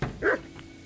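A single short dog bark from Kingdom Come Deliverance II, close and fairly loud, sounds on its own against a quiet background.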